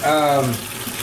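Water pours and gurgles into a re-engineered American fodder box holding floating oats for horses, a loud rising fill at first that thins into a quieter trickle.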